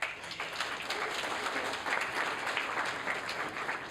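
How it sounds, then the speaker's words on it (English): An awards-ceremony audience at the Upper Midwest Emmy Student Production Awards breaks into steady applause, a continuous wash of many hands clapping at a moderate level for about four seconds. "if you guys want to give them an applause"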